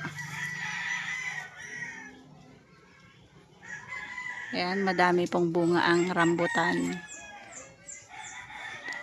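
A rooster crows loudly nearby with chickens clucking around it on a rural lot, while a person speaks briefly before and after.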